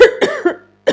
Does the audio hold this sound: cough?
yes